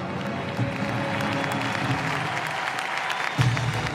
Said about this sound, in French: c'est un tonnerre d'applaudissements et une ovation pour les artistes